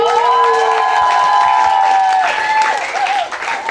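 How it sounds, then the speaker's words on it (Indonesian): Loud audience applause with cheering, whoops and shouting voices after a theater performance, a dense, lively crowd roar carrying on for the whole stretch. "Minta tepuk tangan sekali lagi dong."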